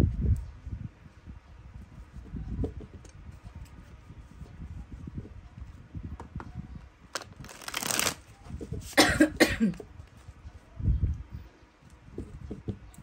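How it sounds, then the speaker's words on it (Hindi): A person coughs indoors, with several short, harsh bursts clustered together. Faint rustling and handling noises are heard between the coughs. "बहुत ज़्यादा खांसी होती है, हो रही है"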